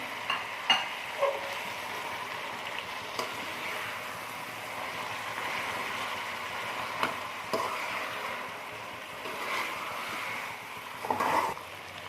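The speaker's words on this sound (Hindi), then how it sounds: "तो चिकन इसमें डालते हैं और इसको भूनते हैं अच्छी तरह से।" Chicken fries in a spiced tomato masala for a bhindi chicken dish, a soft steady sizzle with occasional stirring scrapes and knocks, fairly quiet throughout.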